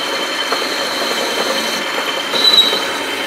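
A CNC-converted wood lathe cuts an undercut about 3/8 inch wide and 1/8 inch deep, giving a steady broadband cutting hiss with a thin high whine that swells briefly louder near the end.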